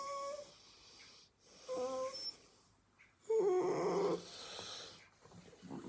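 Socio, a pet dog, grumbles and growls at night in several short, low, throaty bursts separated by pauses. The loudest growl comes near the end, with a faint whiny edge.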